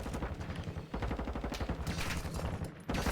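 A Lachmann 556 rifle in Warzone 2.0 fires in rapid, steady automatic bursts, loud and close, with two brief gaps between the strings of shots.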